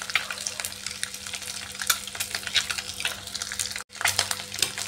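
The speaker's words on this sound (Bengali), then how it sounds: "ডিম ভাজতে একটু ভয়ই লাগে, ডিমগুলো ফাটতে থাকে" Eggs fry in hot oil in a home kitchen, giving a continuous crackling sizzle with sharp spitting pops throughout and one brief break near the end.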